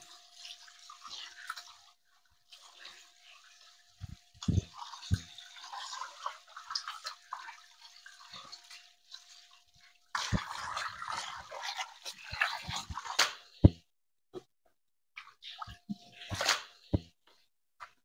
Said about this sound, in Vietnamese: mình vuốt qua một lần qua vòi nước để bên trong này nó có nước